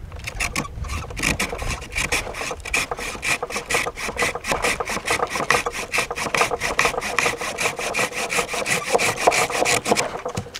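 A Fiskars slider hand saw cuts through freshly cut poplar in a fast, even run of rasping back-and-forth strokes, close and loud throughout, with no voices.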